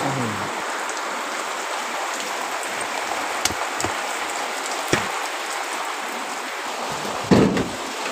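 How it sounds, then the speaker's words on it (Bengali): Steady rain falls on a village pond, a dense, even patter of drops with a few louder splashes and knocks standing out, close and with no talking. "পুকুরেতে কত সুন্দর বৃষ্টি হচ্ছে"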